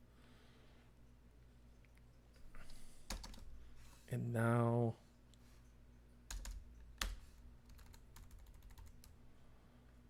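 Computer keyboard typing during a remote tabletop session, scattered clicks and short key bursts at moderate closeness, with a brief louder harmonic tone midway and people talking around it.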